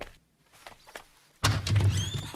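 In a Hindi comedy film scene, faint shuffling leads to a single loud thunk as a window is shut, followed by the muffled sound of a door being opened at close range.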